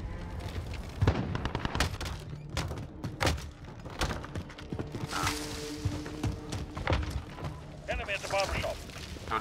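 Shotgun blasts in an online multiplayer shooter, with repeated booming shots and thuds amid busy game noise while players talk over it.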